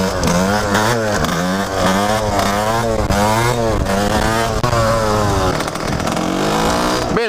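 A Fantic TZ 125 two-stroke motard motorcycle engine revs loudly and repeatedly, its buzzy pitch climbing and dropping in quick waves, close up and continuous.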